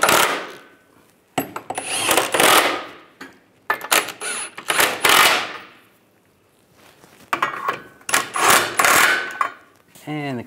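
Bolts on a 1998-2010 Volkswagen Beetle front lower control arm and cradle are snugged down with a ratchet or power tool in several loud bursts of metallic clatter, separated by quiet gaps.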